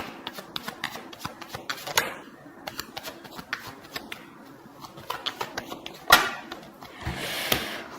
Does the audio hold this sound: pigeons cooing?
no